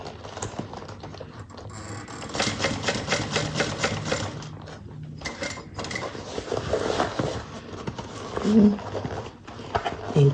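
A sewing machine runs in short bursts, stitching over a connector on a fabric bucket bag, its fast mechanical whirr rising and stopping under a person's voice.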